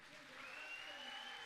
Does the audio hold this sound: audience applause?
yes